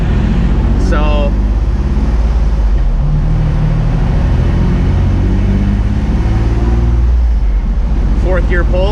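Turbocharged, built Infiniti G35 engine on a dyno in a fourth-gear pull, a loud steady drone holding throughout with brief high whistles near the start and end.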